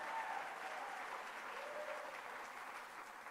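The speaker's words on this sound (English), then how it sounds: "Please give her a round of applause." Sustained audience applause at a State of the City 2026 address, greeting the grants director with a steady, dense wash of clapping that holds at an even level throughout, fairly distant and without speech on top.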